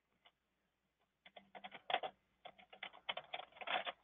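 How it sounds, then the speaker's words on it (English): Fast typing on a computer keyboard while entering information into a broker marketing portal, a quiet scattered tap or two, then dense irregular bursts of clicking keys, close and fairly soft, with no talking. "And you're just going to type in your information."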